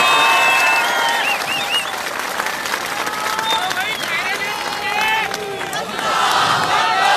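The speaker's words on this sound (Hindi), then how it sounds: "तो एक जोरदार तालियां अपने खुद के लिए बजा दीजिए।" A large outdoor political rally crowd in Aurangabad, gathered in heavy rain, breaks into loud sustained applause and cheering, with whistles and shouts rising and falling close by.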